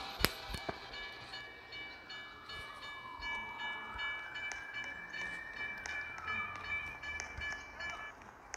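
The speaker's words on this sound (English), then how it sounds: "Another train coming." A train rolls past a rail crossing on North Lamar after a collision with a car hauler, a steady rumble with high wheel squeal that swells and fades over several seconds, heard from nearby under light background noise.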